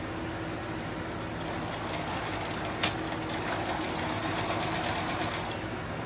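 A sewing machine stitches heavy fabric for a homemade tactical plate carrier, a steady rapid mechanical chatter that builds after a quieter start and runs continuously, with a single sharp click midway.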